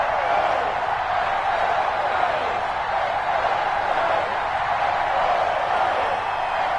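Steady roar of a stadium crowd at an EA Sports NFL video game, Philadelphia Eagles versus New York Giants, a dense continuous murmur holding at an even level throughout.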